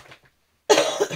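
A single sharp cough bursts out close and loud after a moment of quiet, preceded by faint murmuring.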